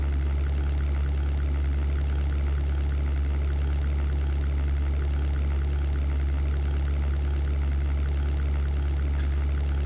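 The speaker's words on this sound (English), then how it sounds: "It's so strange to hear your engine only from your left" Messerschmitt aircraft engine in the 1998 flight game European Air War, a constant low droning hum with steady throbbing, continuous and unchanging with no talk.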